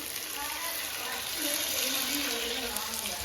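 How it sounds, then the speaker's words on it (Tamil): Water pours steadily into a pan of crab gravy as it cooks, a continuous close splashing gush with no pause. "சரி இப்போ நம்ம தண்ணி ஊற்றிடலாம்"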